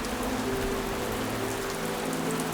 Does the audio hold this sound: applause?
no